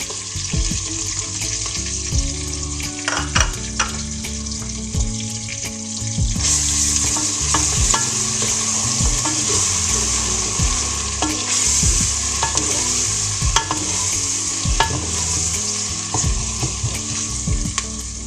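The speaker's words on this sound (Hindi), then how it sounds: "अब इसमें अदरक लहसुन का पेस्ट डालते हैं।" Ginger garlic paste fries in a pan for a daal gosht dish, a loud continuous sizzle that swells partway through. Frequent scraping and knocking stir strokes sound up close.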